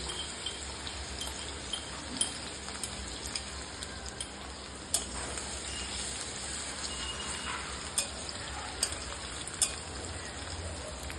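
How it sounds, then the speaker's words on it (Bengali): Garlic sizzling in hot oil as a tempering for a mixed leafy-greens fry, a steady dense crackle throughout with occasional sharper pops, fairly faint and with no talking. "রসুনটা একটু হালকা করে ভেজে নেব"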